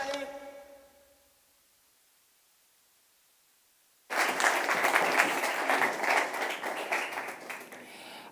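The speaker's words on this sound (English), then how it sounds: "Round of applause as the crowd roars as we take a bow" Loud audience applause and cheering fill a Nature & Climate House event hall, bursting in abruptly after a few seconds of near silence and continuing as dense, sustained clapping to the end.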